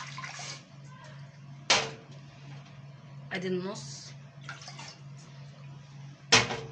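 Water poured by the cupful from a glass into a pot on a gas stove, a few brief splashy pours between moments of quiet, with someone speaking in between.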